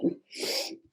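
A single human sneeze, a brief sharp inhale followed by a close, explosive burst.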